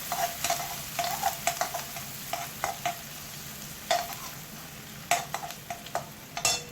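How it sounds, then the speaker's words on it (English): Onions frying in a pan for paneer tikka masala, a steady close sizzle broken by repeated sharp scrapes and stirring clicks of a utensil against the pan, with no voices. "I'm adding the onions. Fry it nice brown color."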